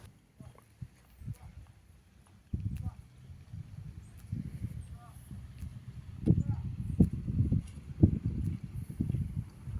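A horse trots and then canters across an arena during a dressage test, hoofbeats soft and fairly distant at first, then growing heavier and more rhythmic, with a voice talking over them.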